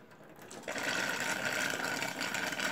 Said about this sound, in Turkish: Pompamız bu şekilde çalışıyor.